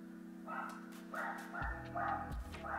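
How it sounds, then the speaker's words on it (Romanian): A dog barks in short repeated bursts, several barks spaced about half a second apart, fairly close and loud over a steady low hum in a kitchen. "este un cățel supărat."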